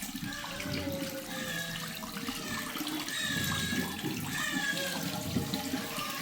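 A household water tap runs in a steady, splashing stream close by for several seconds, with faint background sounds mixed in.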